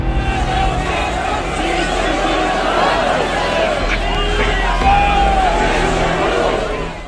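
Large crowd of protesters gathered outdoors in Ladakh in minus 14 degree cold, a steady dense hubbub of many voices and chatter, loud and continuous throughout with no single speaker standing out.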